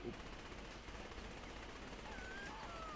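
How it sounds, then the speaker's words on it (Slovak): Gunfire in the video game Saints Row: The Third sounds as rapid automatic bursts, a dense crackling barrage running continuously through the short stretch. "Prečo po tebe niekto strieľa?"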